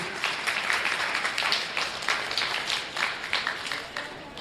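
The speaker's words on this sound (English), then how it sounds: "Let's send all our junior exhibitors out with a nice round of applause" A county fair audience at a junior goat show claps for the young exhibitors, a moderate round of applause that swells and fades in small waves for several seconds.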